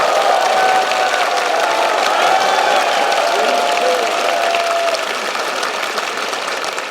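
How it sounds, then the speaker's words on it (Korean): A crowd at a political speech in Daegu breaks into sustained applause, mixed with crowd murmur and some tonal sounds, holding loud for several seconds and then easing slightly. "박수 한번 주십시오"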